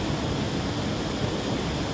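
Khone Phapheng waterfall in Laos pours with a steady, dense roar of rushing water, broad and unbroken for the whole stretch, with no voices over it.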